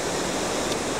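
A waterfall pours into a pool on the Sunshine Coast, a dense, steady broadband rush of water heard close and loud with no break.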